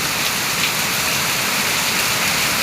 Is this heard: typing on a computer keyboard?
no